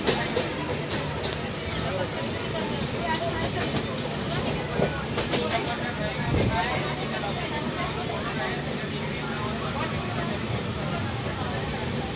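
Indian Railways passenger train running steadily on the tracks toward Khandwa Junction, a continuous rumble with rhythmic clicks under faint background voices.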